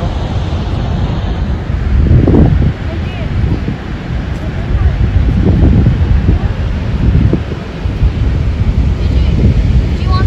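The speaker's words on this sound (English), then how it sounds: "because there's a waterfall right there" Niagara Falls roars as a steady, dense wash of broadband rushing water, close and loud throughout, with a few gusty swells and people talking over it.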